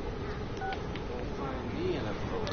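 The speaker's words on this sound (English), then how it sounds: "I answered the phone." A telephone in the sci-fi horror video game SOMA gives electronic tones as it is answered, under a dense, humming game soundscape while a voice talks faintly.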